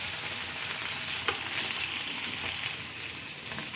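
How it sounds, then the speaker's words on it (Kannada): Green masala fish shallow-frying in a pan gives a dense, steady sizzle with crackling spatter throughout and a brief louder burst partway, close up and with no voices. "ಎಲ್ಲ ಫಿಶನ್ನು ಟರ್ನ್ ಮಾಡಿ ಇನ್ನೊಂದ್ಸಲ ಫ್ರೈ ಮಾಡ್ಕೊಳ್ಬೇಕು."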